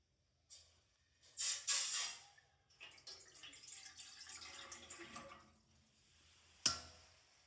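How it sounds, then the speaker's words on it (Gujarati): A lota of water is poured into a cooking pot on a gas stove, making a few splashy bursts and then a steady trickle, ending with a sharp clunk of the vessel, close and fairly quiet. "આપણે એમાં 1 લોટો પાણી એડ કરીશું."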